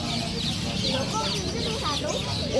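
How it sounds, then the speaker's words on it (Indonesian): Many birds chirp and call in a busy animal market, a dense, continuous chorus with chicken clucks mixed in, and voices of people chatting underneath. "kita sudah disambut dengan kicauan burung yang banyak banget."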